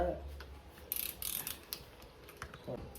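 Bolts come loose on an Xpulse 200 motorcycle handlebar, a quiet, close series of rapid ratcheting clicks in short bursts with small metallic ticks between them.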